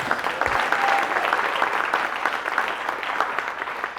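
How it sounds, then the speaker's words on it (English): Steady, dense applause from a large crowd at a graduation ceremony in New Orleans, many hands clapping continuously at an even loudness throughout. "Give yourselves a round of applause."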